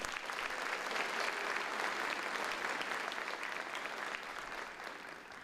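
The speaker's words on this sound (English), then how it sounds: "Please give a round of applause for our faculty" A crowd at a high school graduation ceremony applauds steadily, a dense wash of clapping that holds level and then begins to fade toward the end.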